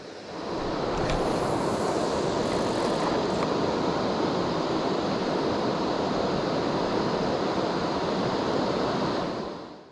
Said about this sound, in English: a rocky river at the head of a rapid